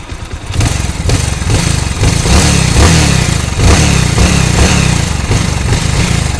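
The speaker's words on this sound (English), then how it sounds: "so the bike has started, the petrol is on" Bajaj Avenger motorcycle engine idling and revving after starting, its carburettor showing a jerk and missing issue; a loud, close, steady throbbing with repeated rev surges and no talk.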